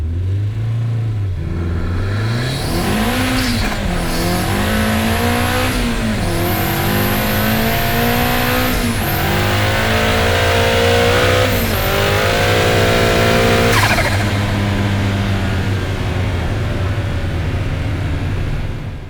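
A 500 hp Mazda Miata launches hard from a standstill over a quarter mile, its engine screaming up through the revs in several long climbing pulls with brief drops at each gear change, loud and close throughout.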